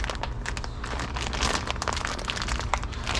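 Plastic packaging around a polishing pad being opened, close crinkling and crumpling that crackles steadily for a few seconds, alone without talk.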